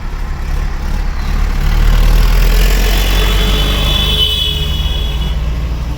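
A tractor's engine runs steadily on a mountain pilgrimage route near Hemkund Sahib and Badrinath, a continuous low rumble at fairly close range with no talk over it.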